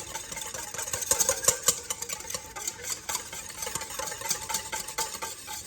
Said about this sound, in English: So then you're just gonna go ahead and whisk these ingredients all together.